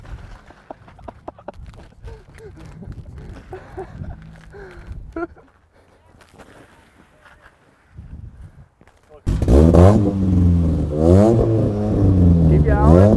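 Race car engine revving hard while its wheels spin in snow, a loud sustained roar with rising and falling pitch that bursts in after quieter cabin sounds and brief talk.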